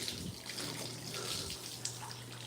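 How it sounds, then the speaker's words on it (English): Water is poured over a 1968 C10 truck bed that has been water-sanded with 600 grit for sealer, trickling and splashing steadily and quietly with no voices. "you can take one of these water bottles and you can pop a hole in the lid and use it as a squirt bottle"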